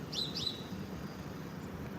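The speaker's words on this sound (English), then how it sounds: "They're like the baby birds." Two quick, high chirps from baby birds, faint and close together, followed by low background hum.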